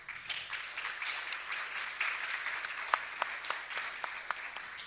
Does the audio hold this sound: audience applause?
yes